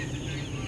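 Seven-day-old broiler chicks in a brooding pen give soft, steady clucking and peeping, a brief close-up chorus with no talk.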